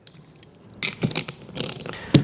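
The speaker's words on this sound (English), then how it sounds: "I'm going to slide the terminal underneath the nut, and I'm going to tighten it." A nut being tightened onto a terminal of a reverse light module during a 2024+ Ford Ranger kit install gives close, quick ratcheting clicks in two short bursts, with a sharper click near the end.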